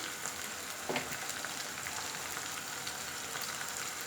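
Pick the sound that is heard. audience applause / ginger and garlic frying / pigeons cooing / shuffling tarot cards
ginger and garlic frying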